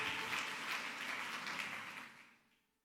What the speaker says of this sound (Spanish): Pueden dar un aplauso a Jesucristo.